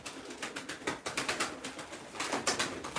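Pigeons at a Turkish pigeon sale, including a grey male, give soft repeated coos and wing flutters at close range, with no voices.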